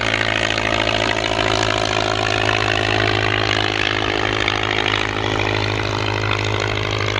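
A steady, loud original 1924 aeroplane engine drones throughout with a constant low hum and busy mechanical texture, no pauses, no voices.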